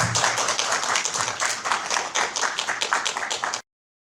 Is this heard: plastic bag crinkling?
no